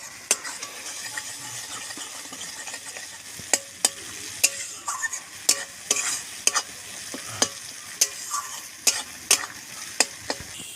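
Spices frying in mustard oil in a pan for an egg curry give a steady soft sizzle, broken by sharp, regular metallic clinks and scrapes of a spatula stirring against the pan, with no talking.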